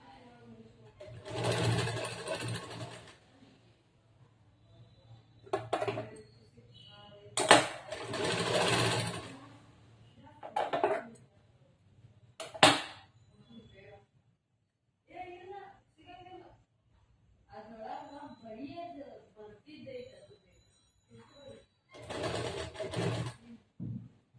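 A sewing machine stitches the side of a collar-neck blouse in several separate bursts of whirring, running loud and close between pauses, with a person talking in the quiet gaps.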